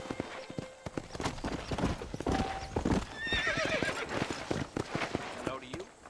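Horse hooves clip-clop steadily in Red Dead Redemption on Xbox Series S, with a whinny and other game sounds mixed in, under dialogue between characters.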